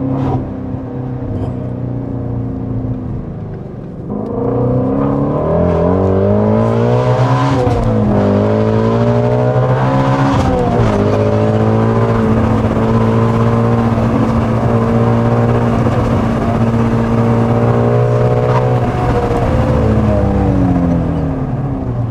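Ford Mustang GT350 engine roaring loud and close, its pitch rising and falling through repeated revs and accelerations, with a brief lull near the start before it holds a sustained, hard-pulling note.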